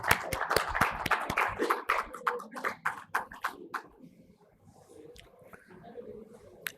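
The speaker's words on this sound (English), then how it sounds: "a round of applause, please" A small audience at a panel session on EV charging claps sparsely in uneven bursts that thin out and fade into quiet room sound, with a few scattered late claps near the end.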